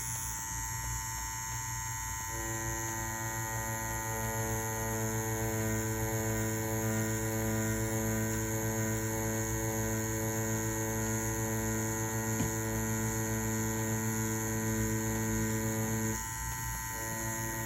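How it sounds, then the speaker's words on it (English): A Mummy wireless tattoo machine runs at 7.5 volts while packing black ink, giving a steady, close electric hum and buzz that holds without a break throughout. "Let's go ahead and see how this machine packs black now."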